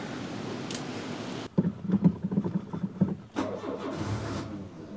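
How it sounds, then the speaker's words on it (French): A Peugeot 205 Turbo engine cranks over and catches, with a brief run of uneven starter chugs followed by the motor firing and settling into a rougher idle, close and moderately loud. "ce que je vais faire, c'est tout de suite démarrer le moteur"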